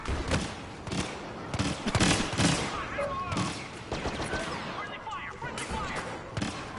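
Blaster gunfire in a Star Wars Battlefront match, rapid bursts and impacts crowding together with voices talking over the action throughout.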